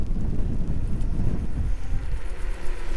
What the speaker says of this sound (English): That wind is most definitely blowing this way